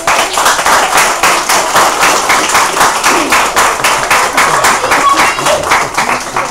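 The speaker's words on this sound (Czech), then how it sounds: "zatleskáme si" Children clap together in a school classroom on their first day, a dense and steady patter of applause that runs loud and unbroken from start to end.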